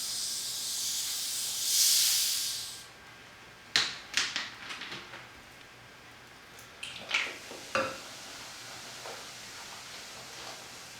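Coca-Cola poured into a hot pan holding a whole pig's leg gives a loud, steady hiss that swells and then fades, followed by scattered sharp crackles and spits of sizzling.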